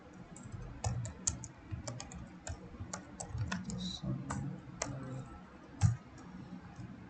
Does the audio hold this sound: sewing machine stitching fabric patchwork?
no